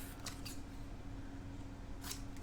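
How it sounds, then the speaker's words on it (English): Scissors snip through long leftover pieces of tape during scrappy journal making, with a few quick, brief cuts standing out clearly over a steady low background hum. "I'm just going to quickly cut them off"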